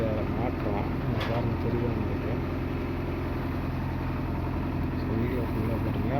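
A JCB excavator engine idles and runs at a steady, moderate level with an even low mechanical drone throughout.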